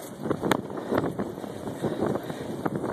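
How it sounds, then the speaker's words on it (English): Gusty wind on a blustery day buffets the microphone with a continuous rough roar that swells and eases, with brief louder bursts, while a vehicle rides along. "it's a pretty windy day"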